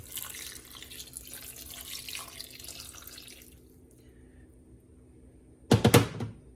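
About four cups of water pour steadily into an Instant Pot for a few seconds, then quiet, followed by a short, louder clattering splash near the end.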